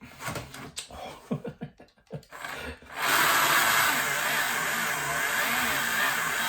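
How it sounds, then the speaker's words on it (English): Scattered rubbing and knocks give way to a continuous loud gritty whirring as Carrera slot car tyres spin against sandpaper, sanding them down. "the tyres are running on the sandpaper, which is just sanding them down slightly"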